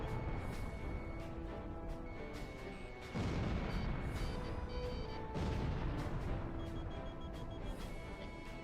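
A missile fires from a fighter jet in Ace Combat Zero: The Belkan War, giving two loud, rushing bursts a couple of seconds apart over steady engine roar and game music.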